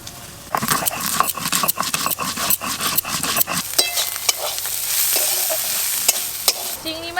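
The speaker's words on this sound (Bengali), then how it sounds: "চিংড়ি মাছ ভাজা হয়ে গেছে" Prawns fry loudly in a pan, a constant crackling sizzle broken by repeated sharp scrapes and taps of a spatula stirring through the first half, then settling into an even hiss.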